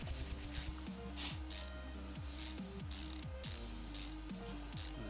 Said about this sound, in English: That's the last of the bolts going in for that cover